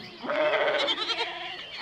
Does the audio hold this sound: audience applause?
no